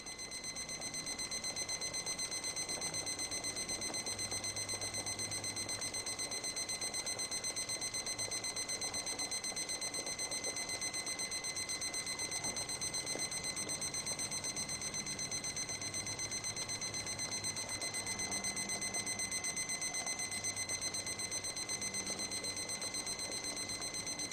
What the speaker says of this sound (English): and there's the alarm